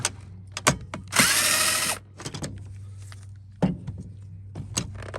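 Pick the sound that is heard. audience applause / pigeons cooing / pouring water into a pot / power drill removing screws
power drill removing screws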